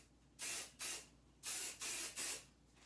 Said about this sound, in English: I'm gonna take my hairspray